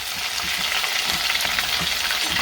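Crushed ginger and garlic with cumin fry lightly in a pan, a loud, close, dense crackling sizzle that holds steady from start to finish with no voices.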